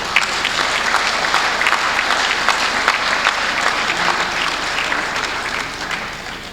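Audience applause at an investors' forum in Benue, Nigeria: a steady, dense wash of many hands clapping that holds loud for several seconds and then begins to fade near the end.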